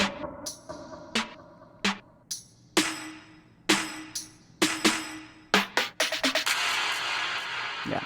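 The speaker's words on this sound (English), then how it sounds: "it's a little percussion fill with a filter on it" A short filtered percussion fill: a string of sharp, close hits that quicken and pile up, ending in a sustained, bright washing swell as the filter opens, with no talking.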